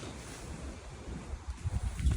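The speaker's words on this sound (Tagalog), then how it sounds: "Yan, sobrang lakas ng hangin." Strong outdoor wind at about 90 km/h buffeting the microphone while a tent is being set up for a birthday party, a low rumbling roar with gusts that swell louder toward the end.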